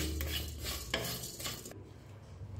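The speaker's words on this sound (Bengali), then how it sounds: "এবার ফ্লেমটাকে লো আর মিডিয়ামের মাঝামাঝি রেখে এই মশলাটা হালকা করে একটু ড্রাই রোস্ট করে নিচ্ছি।" Whole spices, including black peppercorns, dry roasting in a pan over a low-to-medium flame. Continuous scraping and stirring rattles against the metal, with a sharp clink partway through, then the sound quiets toward the end.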